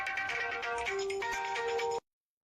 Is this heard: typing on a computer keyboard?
no